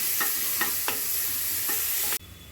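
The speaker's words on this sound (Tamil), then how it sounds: "ரெண்டு வே தக்காளி வந்து நீட் நீட்டாக கட் பண்ணியிருக்கேங்க அதையும் நல்லா போட்டு கலக்கிக்கலாம்" Chopped tomatoes are stirred and sautéed in a pan for kuska biryani. A loud, continuous hiss carries several rhythmic scraping stirs until it cuts off abruptly near the end.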